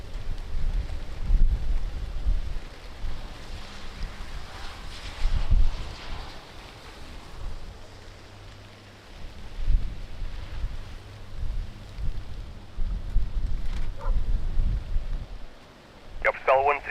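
Strong wind at Lisbon Airport buffets the microphone in a continuous low roar that swells and dips in gusts, with faint radio chatter at the end.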